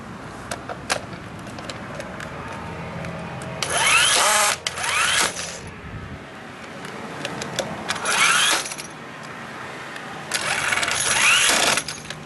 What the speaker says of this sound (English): See, with the impact wrench, the life is a lot easier because the bolts are coming out very fast.